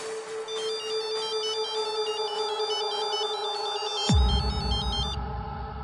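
A telephone rings in a dramatic film scene with a repeating electronic ringtone in alternating tones over a low hum. Partway through, a dull thud breaks in and the ringing soon stops.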